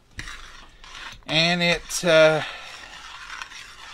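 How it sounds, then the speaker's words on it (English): A spoon stirs boiling squash relish in a pot, scraping and clinking against the metal while the mixture bubbles and hisses underneath, and a voice speaks briefly over it. "When I stir, it just keeps boiling."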